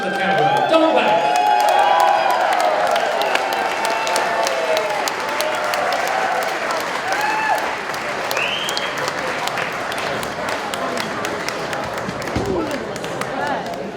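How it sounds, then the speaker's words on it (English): Cabaret audience applauding, a dense sustained wash of clapping with some cheering that swells at first and slowly thins over several seconds, with voices faintly under it. "now what about a big round of applause for our host of the cabaret, Don Black."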